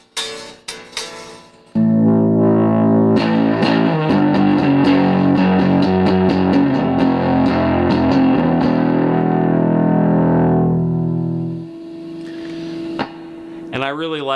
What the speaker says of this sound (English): you can crank to get like more of a distortion sound out of it